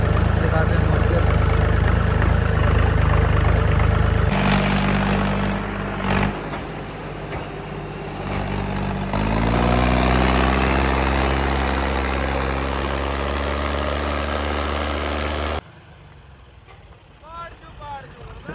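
Tractor engine idling and revving near farm fields with trolleys hitched, a loud low diesel drone that shifts in pitch and level, then cuts to quieter ambience with a voice talking briefly near the end.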